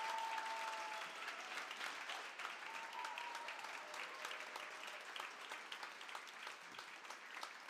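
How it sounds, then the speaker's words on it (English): An audience at a conference panel on the Spirit of Bandung and the Asia-Africa Conference applauds to welcome a panelist, sustained moderately loud clapping lasting several seconds with a faint tone near the start. "So a big round of applause for Peter Mertens"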